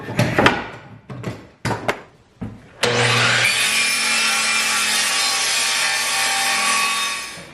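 Handsaw cutting a 2x4 wooden board for an attic frame, starting with a few separate rasping strokes and then a continuous loud, close grinding saw noise.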